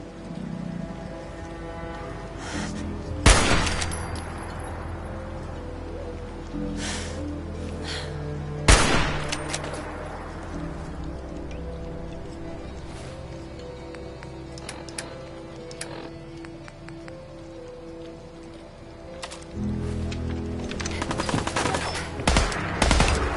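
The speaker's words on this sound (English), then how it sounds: "When the bullets start flying, find cover." Gunfire rings out in Fallout 4 amid deep fog: sharp, loud individual shots crack at intervals, with scattered rapid bursts over a steady background hiss, and a flurry of shots near the end.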